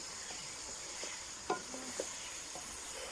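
Chicken frying in a kadhai, a steady soft sizzle with scattered spoon-scraping stir strokes and a couple of sharper clinks, fairly quiet with no talking.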